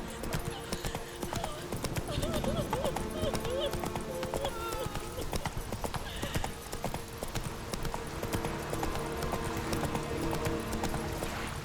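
Horse hooves in The Witcher 3: Wild Hunt beat out a fast, rhythmic clip-clop gallop throughout, close and steady, with a brief whinny and game music beneath, while a person talks over it.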